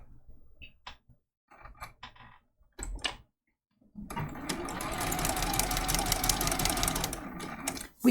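A sewing machine runs steadily for about four seconds, stitching a quarter-inch seam through fabric, close and even in tone after a few scattered quiet clicks and handling sounds.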